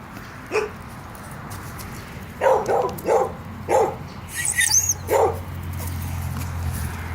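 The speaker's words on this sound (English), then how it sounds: "That's Lucy barking and Lizzie whining here" A dog barks in short bursts, several sharp barks spaced apart, mixed with higher whining and whimpering, nearby over a low steady hum.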